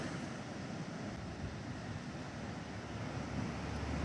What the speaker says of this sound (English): I see a big wave cresting out there. Maybe it'll come in and make the well overflow.